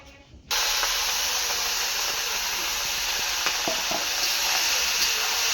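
Ghee hitting a hot frying pan in a home kitchen bursts into a loud, steady sizzle after a brief quiet moment, and the hiss continues evenly with a few small pops.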